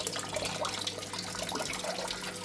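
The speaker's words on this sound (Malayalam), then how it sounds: "അടുത്ത സെക്ഷൻ വെള്ളം നിറഞ്ഞിട്ട് ഫില്ലായിട്ടുണ്ട്" An IFB washing machine fills with water during a tub clean cycle, a steady close rushing and splashing of water pouring into the drum without pause.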